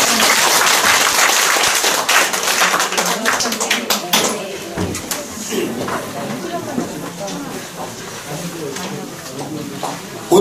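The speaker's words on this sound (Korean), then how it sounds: "큰 박수 부탁드리겠습니다." Seminar attendees give a lecturer a welcoming round of applause that lasts about four seconds and then fades, followed by faint room noise and rustling with speech nearby.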